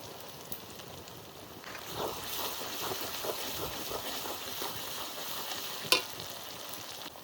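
Tender goat meat masala frying in oil with a ground paste of green chilli, dried chilli and black pepper, a steady close sizzle with occasional stirring scrapes and one sharp clink, no talking.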